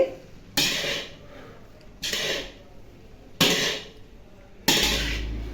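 Metal spatula clanks against a pan as gobi fried rice is tossed with vinegar and soy sauce, four sharp, bright strikes spaced about a second and a half apart, each trailing off quickly into a quiet kitchen.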